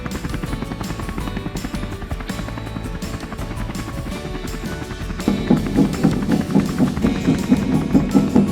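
A helicopter's rotor thumps steadily and loudly with a dense mechanical drone, growing louder and heavier about halfway through, with no voices.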